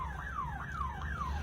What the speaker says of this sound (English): we have introduced this APM device that can siren and alarm the commuters 3 km prior to an ambulance